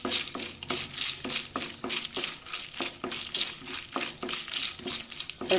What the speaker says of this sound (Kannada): ಸ್ವಲ್ಪ ಫ್ರೈ ಮಾಡೋಣ